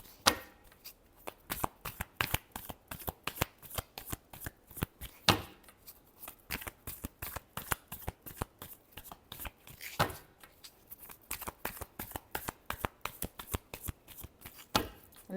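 A tarot deck is shuffled by hand close up, a long run of quick, crisp card slaps and riffles in uneven bursts with short pauses between them. No one speaks.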